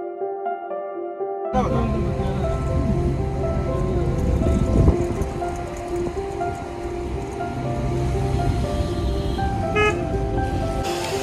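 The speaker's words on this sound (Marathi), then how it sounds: "हा धबधबा बघा सुंदर" Waterfall at Malshej Ghat, crowded with tourists, pours out a steady, broad rushing roar that starts after a brief musical intro and continues unbroken, with faint voices mixed in.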